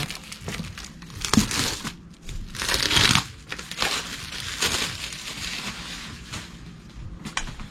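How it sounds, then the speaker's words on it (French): A diamond painting frame is unwrapped from its packaging, giving continuous crinkling and crackling of plastic wrap in uneven bursts, close up and fairly loud, with no one speaking. "Donc là, je vais venir déballer mon cadre."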